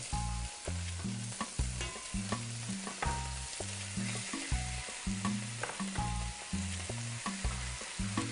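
Meat pieces brown in olive oil in a pan, a steady close sizzle with occasional stirring clinks, beneath a rhythmic music backing and no voices.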